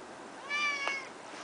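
A black cat gives a single short meow, close and clear against a quiet room.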